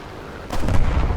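Aircraft cannon fire in War Thunder striking a P-47's engine, a sudden loud burst of impact noise that swells after a quiet moment and rumbles on for about half a second.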